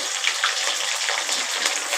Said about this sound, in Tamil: கடுகு நல்லா பொரிஞ்சு வரட்டும்.